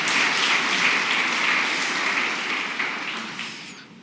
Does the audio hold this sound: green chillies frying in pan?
no